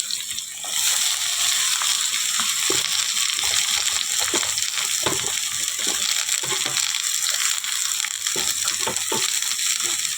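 Bottle gourd and potato pieces go into hot oil in a pan with fried lentil dumplings, giving a steady, loud sizzle and hiss throughout, punctuated by scraping and stirring clacks.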